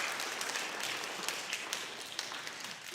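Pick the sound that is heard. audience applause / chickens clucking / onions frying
audience applause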